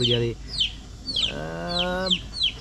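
Chicks from a Kadaknath and Golden Brahma cross peep close by in repeated high chirps, while a deeper cluck and voices sound in between.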